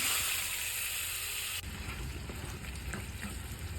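Tiger prawns frying in hot white cooking oil in a pan, a steady loud sizzle with a fine hiss. Partway through, the texture shifts to a rougher crackling with scattered pops.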